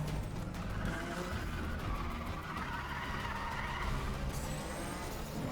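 A Nissan GT-R races in Need for Speed The Run, its engine holding a steady, loud drone with tire noise throughout, briefly rising near the end, with no talk.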